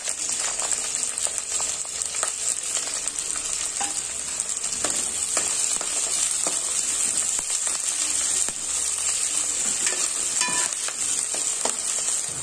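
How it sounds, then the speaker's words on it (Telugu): Chopped onions and green chilies fry in hot oil in a pot, a continuous close hiss and crackle with occasional stirring clicks and no voices. "ఆయిల్ వేడెక్కిన తర్వాత తరిగిన ఉల్లిపాయ ముక్కలను పచ్చిమిర్చి ముక్కలను వేసుకొని వేయించుకోవాలి"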